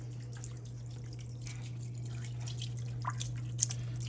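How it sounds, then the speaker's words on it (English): Aquarium water siphons out through tubing while an FX6 canister filter is being cleaned, a faint, steady trickle with scattered drips and splashes over a low hum. "Just siphon the aquarium water out with the tubing."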